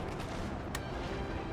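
Massed musket volley fire on a Napoleonic battlefield at the Battle of the Pyramids in Napoleon: Total War, a continuous crackling din with one sharper report standing out midway.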